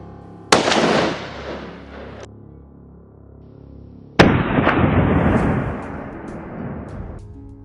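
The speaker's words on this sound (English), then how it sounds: "Then a barrage of gunfire echoes across the field" Two loud gunfire bursts from rifles aimed at charging wild boars on a farm field, each a sharp onset followed by a sustained rattling barrage lasting a couple of seconds, with the sound rolling across the open field, no talk.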